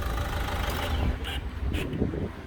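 Opel Astra K engine after an 11-part timing chain set replacement, running with a steady mid-low hum and a few faint higher ticks, close and fairly loud throughout, no talk.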